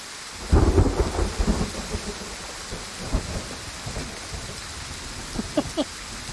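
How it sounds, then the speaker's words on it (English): A thunderstorm in the Way of the Hunter hunting game, with steady rain hissing over the whole stretch and rolling thunder rumbling loudly near the start, then fading into softer, lingering booms. "Witnessed a big thunderstorm."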